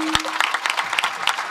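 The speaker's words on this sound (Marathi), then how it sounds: "यांच्यासाठी एकदा टाळी वाजवा." An audience claps at a kirtan, a short burst of scattered, moderately loud applause following a brief tone at the start.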